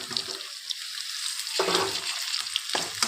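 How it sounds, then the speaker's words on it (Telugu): Bay leaves, curry leaves, small green chillies and tomato fry in hot oil, giving bursts of close, crackling sizzle broken by short gaps as the mix is stirred. "ఇవి బాగా ఫ్రై చేసుకోవాలి"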